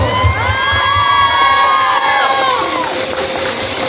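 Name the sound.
crowd clapping and cheering at Ganesh festival event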